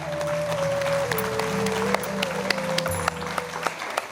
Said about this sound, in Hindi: पूरे टाटा हॉल में तालियों की गूंज सुनानी चाहिए।